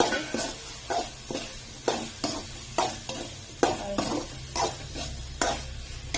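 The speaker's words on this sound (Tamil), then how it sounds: "இப்போ நம்ம தக்காளி போட்டுக்கலாம் தக்காளி சின்ன சின்ன கட் பண்ணி" A utensil stirs small-cut chopped tomatoes frying in a pan for a fish egg curry, giving a series of regular scraping strokes about twice a second over a low, steady sizzle.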